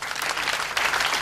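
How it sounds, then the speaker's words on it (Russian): Short burst of audience applause at a Russian-language comedy duo's stage show, a dense steady wash of clapping filling the whole moment with no voices. "Ваши аплодисменты."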